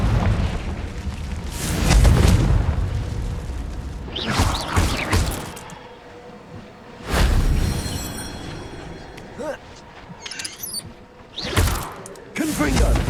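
Confringo fire spells blasting in Hogwarts Legacy, several deep booming explosions spaced a few seconds apart, each with a rumbling tail, alongside quieter in-game sounds.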